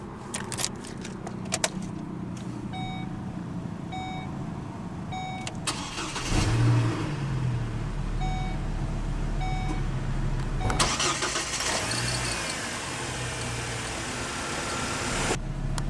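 A 2004 Chevrolet Colorado LS extended-cab pickup with a 3.5-liter inline five-cylinder engine starts up: a few clicks, a brief cranking whir, then the engine catches and settles into a steady idle that rises once briefly.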